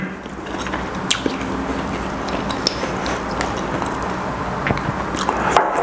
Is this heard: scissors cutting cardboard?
no